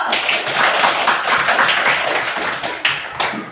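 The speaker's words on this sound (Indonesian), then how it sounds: "Tepuk tangan bersama dulu." A classroom group of students claps together on cue, a dense, steady patter of many hands lasting throughout, close and fairly loud, with no talking over it.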